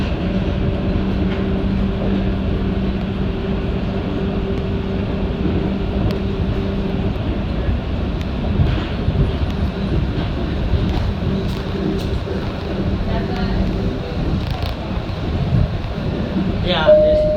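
The Tampa airport tram rolls along its guideway with a steady low rumble and hum inside the car, and voices can be heard over the running noise.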